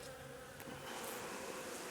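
Honey bees at a hive give a steady, continuous buzz, faint and even throughout, with no voices.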